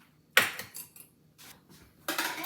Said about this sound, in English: I'm just going to start taking this and start whisking it around.